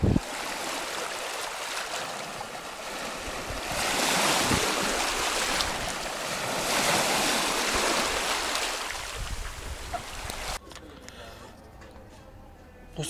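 Sea waves wash steadily onto the shore at Anapa, a loud continuous roar that swells and recedes with wind buffeting the microphone, then drops off sharply near the end.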